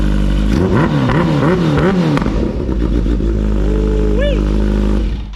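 A Kawasaki Ninja H2 motorcycle engine running on a dyno, loud and close, with rising and falling revs in a steady throaty drone, sharp blips, and a brief high whine near the end.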